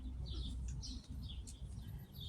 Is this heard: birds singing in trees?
yes